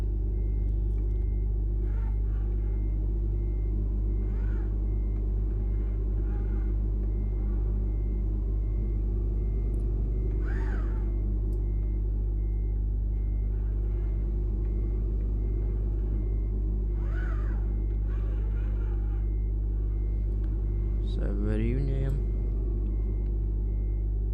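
A Mercedes Actros MP5 truck pulls away from a fuel station in Euro Truck Simulator 2, its engine a steady low rumble with faint beeps and brief hisses layered on top, while someone talks throughout.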